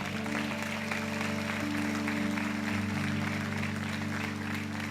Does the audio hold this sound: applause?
yes